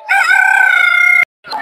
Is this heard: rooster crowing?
yes